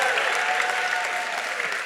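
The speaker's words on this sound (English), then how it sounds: "Give them a little hand clap here they did a great job." Dense, steady audience applause with many hands clapping at a breakout session of a conference, continuous and fairly loud throughout with no pause.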